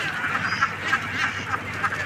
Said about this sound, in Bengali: দেখেন অনেক সুন্দর কিন্তু হাঁস